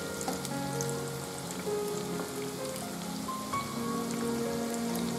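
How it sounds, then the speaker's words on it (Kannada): Prawn kebabs deep fry in oil over a medium flame, with a constant rain-like bubbling sizzle and scattered pops at moderate volume. No one speaks. "ಡೀಪ್ ಫ್ರೈ ಆಗಬೇಕು."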